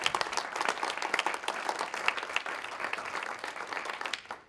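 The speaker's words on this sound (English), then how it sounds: "Applaud to everybody." Audience applause following a formal debate, a dense wash of many hands clapping steadily and fairly loud throughout, fading out at the very end.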